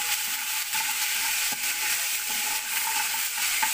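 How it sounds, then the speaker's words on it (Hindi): Ginger garlic paste frying in a pan in oil, a close, steady hiss and crackle with a spatula stirring and scraping now and then, and no voices over it. "थोड़ा सा फ्राई होने दीजिए।"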